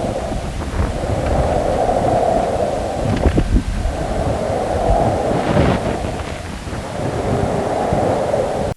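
Recorded space plasma waves: a steady, loud hissing roar like surf, with faint rising tones and eerie whistles swelling briefly through it, continuous and with no voices.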